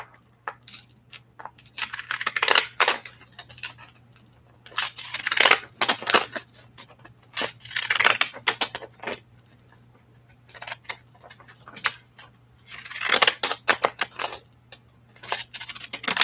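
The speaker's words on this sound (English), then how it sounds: "See how these scissors do. They're very dull now." Bursts of crisp snipping and crunching from dull scissors working through paper come in irregular clusters with quiet gaps, close and fairly loud.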